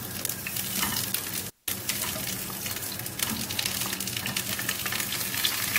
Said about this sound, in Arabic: وكل اللي انا هعمله دلوقتي ان انا هعطيه صدمة كده في الزيت